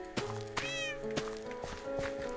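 Minecraft cat meowing in a barn scene, several short high mews with one longer drawn-out cry, fairly faint amid a few soft clicks and thuds from the game.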